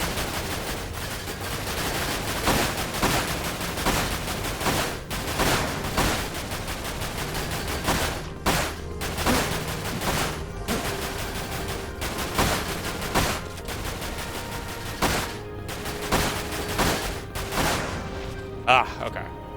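Gunfire in the action game Dirge of Cerberus: Final Fantasy VII rings out as sharp, repeated shots and short bursts, spaced unevenly across a long stretch over a steady background.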